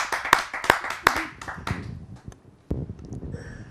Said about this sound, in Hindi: आप सबकी जोरदार तालियों से उसे आमंत्रित करते हैं